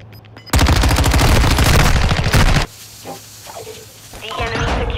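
A loud sustained burst of automatic gunfire rattles in a video game firefight for about two seconds, then cuts off, followed by scattered quieter shots and clatter as voices call out in the background.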